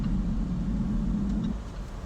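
Jaguar F-Type R engine and exhaust holding a steady, deep rumbling drone at a constant pitch, loud and close, with no change in revs and no voices.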